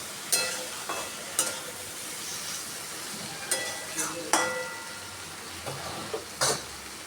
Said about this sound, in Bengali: ভেজে রাখা ভেন্ডিগুলোর সঙ্গেও আমি আলু আর মশলাটাকে আরও ভালো করে নেড়ে ছেড়ে নেব।